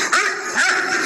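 A dog gives a short run of close, high yipping barks with a whiny edge, heard clearly without any talking.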